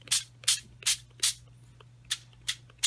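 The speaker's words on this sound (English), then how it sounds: "And I'm just going to spray that." Six short, bright bursts from a spray bottle of water onto a paper craft background, evenly spaced with a brief pause midway, over a low steady hum.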